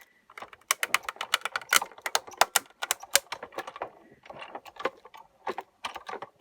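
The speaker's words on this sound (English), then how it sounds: "we're just going to send this through to be die cut" A Crossover 2 die-cutting machine presses a paper stack with a die, giving a dense run of sharp, close mechanical clicks and ratcheting ticks that thin out toward the end.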